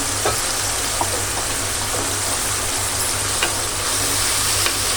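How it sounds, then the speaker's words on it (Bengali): Shredded cabbage frying with potato added hisses loudly and steadily in the pan, with faint stirring taps scattered through the constant sizzle and no voices. "বাঁধাকপি ভাজিতেই কিন্তু আমি আলুটা দিচ্ছি"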